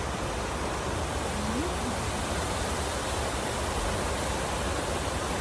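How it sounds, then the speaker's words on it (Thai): A waterfall just behind the listener makes a constant broadband rush of falling water, loud and even from start to finish, with no clear voices over it. "มีน้ำมีน้ำตกอยู่ด้านหลังผม"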